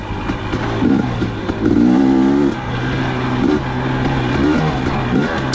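A 2019 KTM 250xc dirt bike runs trail laps at Johns Peak on the Lilly Prairie trails. Its close, continuous engine rises and falls in pitch as the rider revs through the throttle, and no one speaks.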